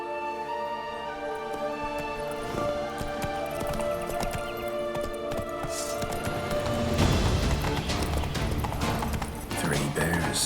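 Roach the horse's hooves clip-clop at a slow walk in The Witcher 3: Wild Hunt, the steady thuds blending into game music and ambience, with a voice speaking over them.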